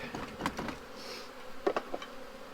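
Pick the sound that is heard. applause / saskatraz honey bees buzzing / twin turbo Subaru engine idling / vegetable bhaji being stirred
saskatraz honey bees buzzing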